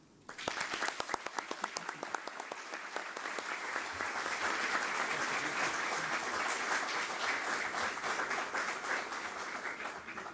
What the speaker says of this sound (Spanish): te doy la bienvenida y te recibo con un fuerte y caluroso aplauso